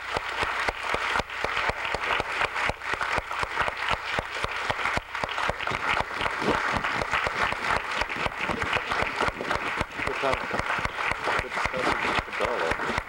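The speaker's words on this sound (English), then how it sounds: "I think we need to give our panelists a wonderful round of applause." Sustained audience applause for panelists at a public leadership forum, a dense, even wash of clapping from a large crowd lasting over ten seconds without letting up.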